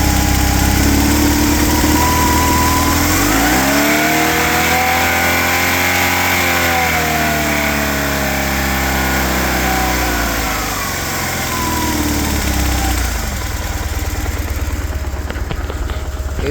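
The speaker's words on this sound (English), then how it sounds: "Now let's rev her up a little bit." A motorcycle engine idling during a throttle body synchronization. The engine is revved in one smooth rise, held for several seconds and then eased back, close and loud, with a high-pitched whine.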